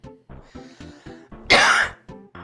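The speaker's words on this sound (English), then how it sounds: "I'm gonna cough." A single loud, harsh cough bursts out after a stretch of quieter sounds, close to the mic and lasting about half a second, during a Gato Roboto gameplay session.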